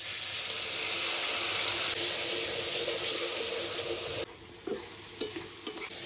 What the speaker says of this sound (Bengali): এবারে মশলার সঙ্গে ভালো করে পেঁয়াজ রসুনটা কষাবো